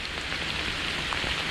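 Steady rain falls in a dense, even hiss with scattered drop impacts, heard outdoors during a fly-fishing outing, constant and moderately loud throughout with no voices.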